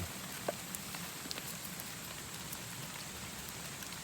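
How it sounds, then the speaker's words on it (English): Steady rain falls in a constant hiss at an outdoor campsite, with a few sharper drops tapping nearby; no one speaks. "Oh man, it started to rain."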